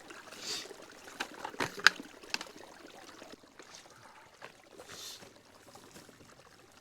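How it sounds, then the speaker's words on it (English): Running water of a small mountain stream along a Sawtooth trail, trickling and splashing in a steady, fairly soft wash with brief louder gurgles up close. "sweet running water."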